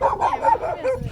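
A dog barks and yips a few times in quick succession, close by in a vegetable garden, with a slightly whiny tone.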